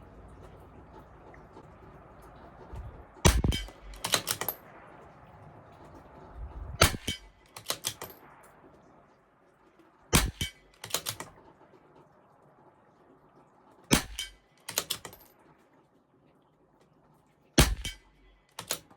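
Rimfire rifle shots from a CZ457 LRP at a 50-yard range, five or so sharp cracks spaced a few seconds apart, some with quick echoing doubles, over a quiet background.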